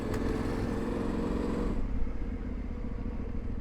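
Yamaha Tenere 700 motorcycle engine warming up on a cold morning, a steady close idle with even rumble and light mechanical clatter, no revving.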